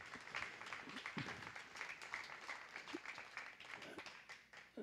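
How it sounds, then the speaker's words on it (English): Audience at a county fair 4-H and FFA beef show claps for six junior showmanship exhibitors in the final lineup, a steady patter of many hands lasting several seconds with a few sharper nearby claps. "Go ahead and give these 6 exhibitors a nice round of applause"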